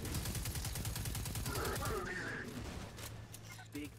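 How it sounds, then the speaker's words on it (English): Rapid gunfire from Destiny 2 rattles in a dense, steady automatic stream for about two seconds, then falls back to scattered shots while a voice talks over it. "I'm being shot."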